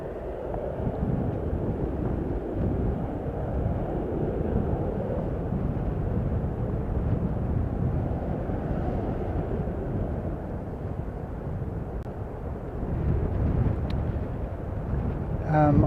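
Qantas airliner departing, a broad roaring rumble from outside that rises slightly near the end, with wind buffeting the microphone.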